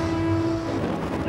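A London train to King George V via London City Airport rumbles with a sustained tonal hum, a steady mechanical drone that fades slightly toward the end.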